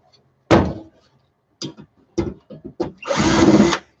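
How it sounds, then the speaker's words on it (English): A cordless drill runs in short bursts amid knocks and bumps of moving things around, ending in a longer, loud whirring run; close and alone with no talk. "whoever invented the cordless drill,"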